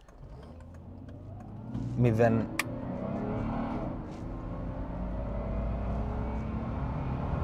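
A Mercedes car launches from a standstill, its engine revving up briefly and then holding a rising, growing roar as it accelerates, with a person talking over it.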